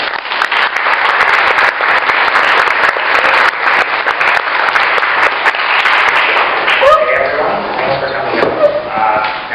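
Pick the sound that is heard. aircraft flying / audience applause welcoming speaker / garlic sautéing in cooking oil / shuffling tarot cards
audience applause welcoming speaker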